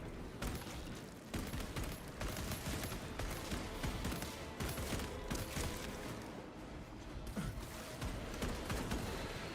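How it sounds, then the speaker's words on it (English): Rapid volleys of gunfire from the video game Space Marine 2, modded with the Astartes mod, crack out in dense repeated bursts and short pauses, fairly quiet overall but continuous. "I love just popping fucking shots off."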